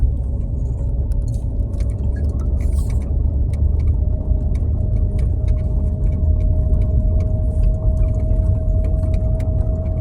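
Steady traffic on a highway through Gumaka, Quezon: a continuous low engine rumble and road drone with a faint sustained tone, loud and unbroken throughout.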